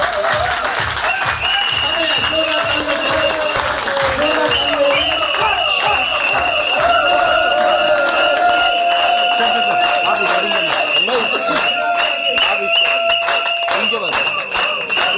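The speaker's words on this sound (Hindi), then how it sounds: "ये ताली बजाएंगे आप इधर" An audience at a lively talk in Goa applauds on cue with sustained, crowded clapping, while a voice and what sounds like music carry on over it throughout.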